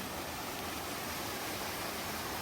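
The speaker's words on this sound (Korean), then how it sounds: "들머리 초입에 물소리를 담아가야 합니다." A mountain stream at the Osaek trailhead of Seoraksan rushes continuously in a steady, broadband hiss nearby, with no voices or other sounds.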